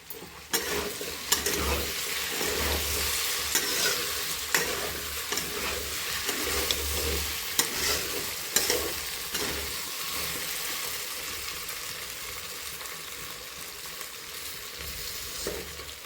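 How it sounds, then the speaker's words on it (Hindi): Potatoes stirred in a hot pan as they fry, a steady sizzle broken by repeated scraping and clattering strokes of a spoon, close and continuous with no talk. "बीच बीच में हम अपने आलू को चलाते रहेंगे ताकि ये लगे नहीं, नीचे चिपके नहीं"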